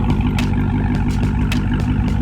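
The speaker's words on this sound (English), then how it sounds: "I'm gonna let you guys hear the way it idles. It's a nice little grumble to it." Car idling with a mid muffler delete exhaust, a steady low, rumbling grumble with a slightly uneven pulse, heard up close with no talking over it.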